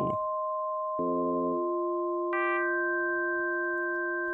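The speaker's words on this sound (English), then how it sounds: "There you've got a cool electric piano sound there." Yamaha DX7 FM synthesizer playing an electric piano patch: two clean, bell-like notes struck about a second apart, each sustaining steadily and ringing on alone at a moderate level.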